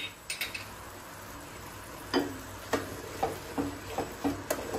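Thickened cauliflower gravy with ghee is stirred in a pan, a faint sizzle under a series of sharp utensil clinks and scrapes that come in quick irregular bursts toward the end.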